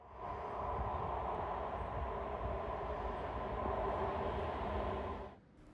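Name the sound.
Type 78 airport train arriving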